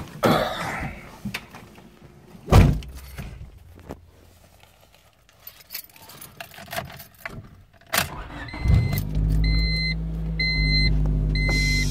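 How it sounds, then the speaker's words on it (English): A bagged Honda Civic is started and set moving: door and cabin clunks and scattered knocks give way to an engine catching around eight seconds, then a steady idle with a whining tone, close and fairly loud with no talk. "So let's get in and start her up."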